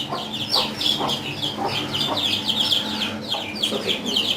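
Light Brahma chickens clucking in short, repeated bursts, with a busy farmyard murmur underneath and no one speaking.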